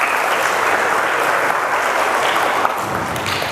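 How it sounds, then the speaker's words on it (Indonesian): Steady, dense applause from an audience at a talk, clapping continuously and evenly at close range with no speech over it. "kita berikan aplaus untuk kita semua."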